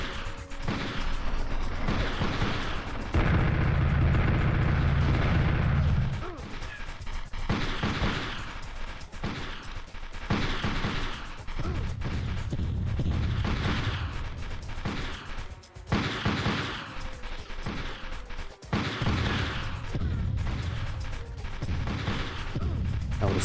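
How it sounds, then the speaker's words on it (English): Repeated grenade blasts and gunfire in the PlayStation war game Army Men: Green Rogue, loud bursts recurring throughout with a heavy low rumble early on, no voices. "An awful lot of grenades."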